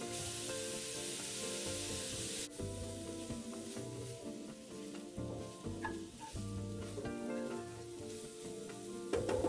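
A five-spice tofu filling sizzles and crackles steadily in a hot pan as it is stir-fried, with a continuous close frying hiss and occasional scraping stirs.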